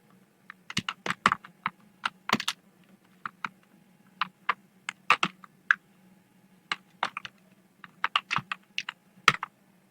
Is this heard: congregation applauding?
no